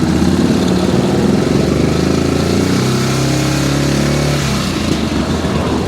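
Yamaha Grizzly 660 ATV engine revved up from idle, a steady loud mechanical drone that rises in pitch and holds before dropping back toward idle near the end.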